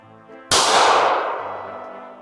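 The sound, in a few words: shots fired from a Winger gun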